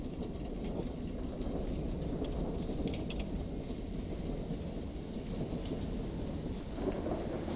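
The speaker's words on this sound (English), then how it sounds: "That is a little hail once in a while." A night thunderstorm in Beatrice, Nebraska, with no wind: steady rain hisses continuously, with a low rumble of thunder running underneath throughout. Occasional hail is possible but cannot be confirmed.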